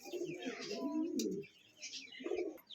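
Several domestic pigeons, including a Tiger Gorra, coo in low rhythmic phrases at close range, the cooing rising and fading with a break and returning near the end, with a few faint chirps above.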